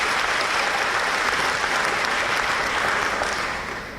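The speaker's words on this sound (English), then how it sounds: "Round of applause, please." Dense, even applause from a large audience at a European business association dinner in Taiwan, steady and close throughout before tapering slightly at the end.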